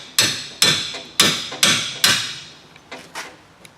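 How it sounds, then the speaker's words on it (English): A hammer strikes an old-school manual impact driver during a Nissan Maxima control arm replacement, with five loud ringing metallic blows at a steady pace, then three fainter taps. "got my old school impact driver"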